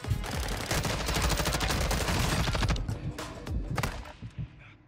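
Dense gunfire from the video game Call of Duty Warzone, a loud rapid burst of shots lasting several seconds, then scattered single cracks and a tapering tail.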